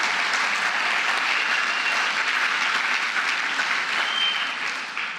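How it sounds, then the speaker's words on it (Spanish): A church congregation bursts into sustained applause, a thick wash of many hands clapping at once. It holds loud and even, then begins to fade at the very end. "¿Cuánto le dan un aplauso al Todopoderoso?"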